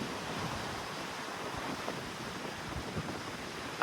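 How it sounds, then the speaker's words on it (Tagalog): Strong wind gusts roar across an open cruise ship deck at sea beside the lifeboats, a steady broadband rush with faint surf beneath, no voices. "Malakas lang yung hangin"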